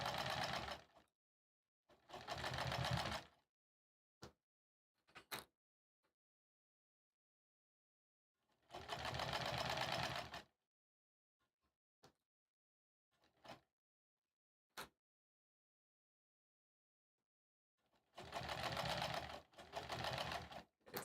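A sewing machine stitches a Sleigh Ride embroidery design on a pillow cover in short bursts of rapid whirring, separated by silences and isolated clicks, close and clear with no talking.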